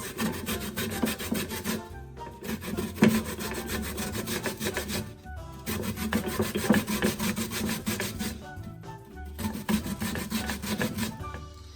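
Cassava root rubbed on a hand grater, rhythmic rasping strokes in bursts with short pauses between, close and fairly loud, no talking.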